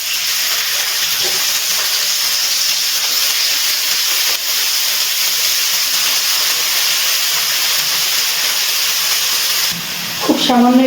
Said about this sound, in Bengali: ব্রোকলিগুলো ভেজে নিচ্ছি।